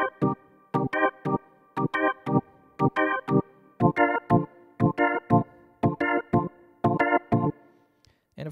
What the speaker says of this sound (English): You can also try the technique using different inversions of chords.